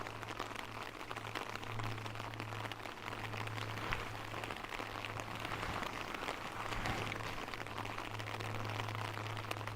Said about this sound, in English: You see the rain?